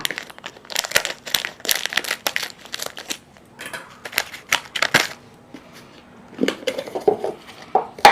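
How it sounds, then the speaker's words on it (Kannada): Upma mix pours out of a sachet into a box, crinkling packet plastic and dry granules rattling in bursts of crisp, close scraping and tapping, no voices. "ಈಗ ಈ ಸ್ಯಾಶನ ಎಂಟಿ ಮಾಡಿ ಬಾಕ್ಸ್ ಅಲ್ಲಿ ಹಾಕ್ಬಿಡೋಣ"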